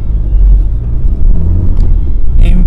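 Cars passing close by on a road, a loud steady low rumble of engines and tires that fills the whole stretch without pause.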